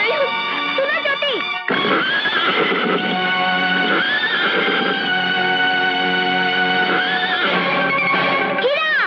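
A horse gives a loud, shrill, quavering whinny that repeats over a sustained dramatic film soundtrack, with hoof clip-clops mixed in, close and prominent throughout.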